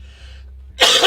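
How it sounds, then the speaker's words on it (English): A single sharp cough bursts out near the end after a quiet stretch, close and loud, from a man playing a tank strategy game. "Sorry for that cough"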